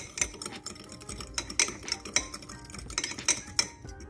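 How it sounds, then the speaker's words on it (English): Seasonings and oyster sauce for garlic noodles are whisked in a bowl, a quick run of close clinks and scrapes of a utensil against the dish, fairly rhythmic and moderately loud. "All right, so just mix it up."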